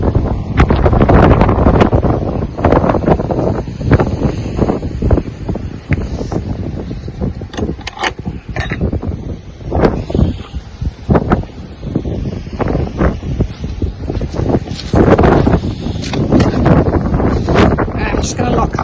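Strong gusts of wind blowing in an autumn garden, buffeting the microphone in loud roaring rushes that rise and fall throughout.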